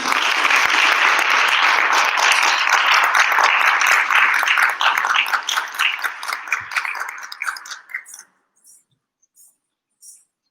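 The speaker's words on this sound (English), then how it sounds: "please give a huge round of applause and encouragement as she approaches the stage" Audience at a Bharatanatyam arangetram recital applauding as the dancer approaches the stage, a loud sustained crowd clapping that thins into scattered individual claps and fades out, with a few isolated claps at the end.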